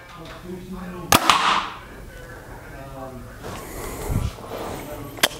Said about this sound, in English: We're gonna shoot the VENTUM PRO again.